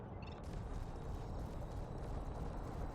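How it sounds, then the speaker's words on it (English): Class 4 multi-cannons in Elite: Dangerous fire in a dense, continuous rumble of heavy, bass-rich rapid shots, loud and sustained without pause. "I just love the sound of these Class 4 multi-cannons."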